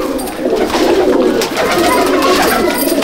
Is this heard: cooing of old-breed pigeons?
yes